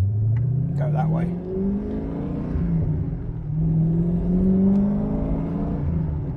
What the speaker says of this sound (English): Definitely a louder car.